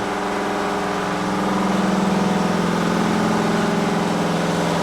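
Generator number 3 running aboard the ex NZ Navy ship Manawanui, a steady mechanical engine hum with a firm low drone that swells slightly midway and stays close, with no talking.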